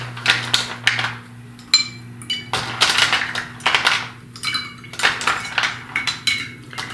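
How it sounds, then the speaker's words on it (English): Ice cubes dropped into a glass of cold brew coffee, a run of close, bright clinks and clatters in quick irregular bursts, with a faint steady hum underneath. "put some ice in here"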